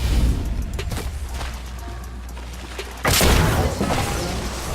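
Gunfire in the Apex Legends game comes as scattered sharp shots and impacts over a low rumble, then a louder burst of booming fire near the end.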